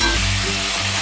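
Chicken pieces frying in oil over medium gas, a loud close steady sizzle with a faint humming tone beneath, no voices.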